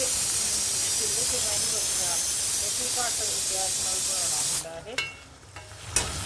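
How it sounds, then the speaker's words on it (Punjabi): Homemade hair oil simmers in a pot with a steady loud hiss and bubbling, broken near the end by a few clanks and stirring knocks, while a voice talks over it. "ਹੁਣ ਇਹ ਪੂਰਾ ਰਿੱਝ ਰਿਹਾ ਤੇਲ"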